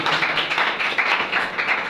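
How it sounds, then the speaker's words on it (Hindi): Audience clapping hands at a Hindi-language church gathering, a steady dense patter of many hands filling the short moment without pause, no voices over it. "ताली बजाइए"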